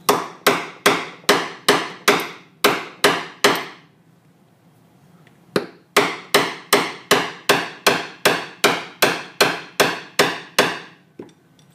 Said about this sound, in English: take whatever you're going to use to drive it in, take your hammer